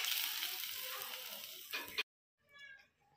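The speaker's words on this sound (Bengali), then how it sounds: "ততক্ষণ আমি সীতাভোগটা ভেজে নেব। এইভাবে সব সীতাভোগগুলো ভেজে নেব।" Sitabhog sweets frying in oil, a moderate sizzle for about two seconds, then a sudden cutoff to silence before a fainter, brief burst of sound returns.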